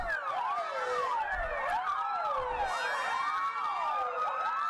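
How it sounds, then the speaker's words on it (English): An old Slovakian fire truck siren wails in a wavy, continuous up-and-down cadence, with several overlapping tones sweeping together, loud and close, with no voices. "The siren cadence is very, like, whoa, right? Like, very up and down, like, wavy."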